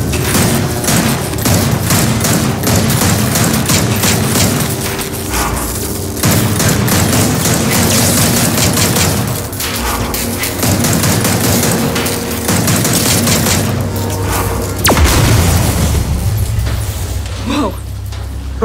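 Sustained, loud rapid gunfire and booming blasts in Gears of War 4 as players shoot a transformer core, continuous and dense throughout, with voices underneath.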